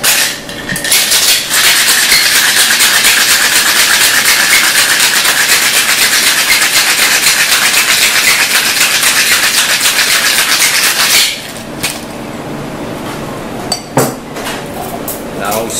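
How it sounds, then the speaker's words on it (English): Cocktail shaker packed with ice for a lime and coffee-lime-leaf Gimlet, shaken hard in a bar: a loud, steady rattling wash for about eleven seconds, then stopping, followed by quieter clinks and handling noises. "Next, we add ice and give it a good shake."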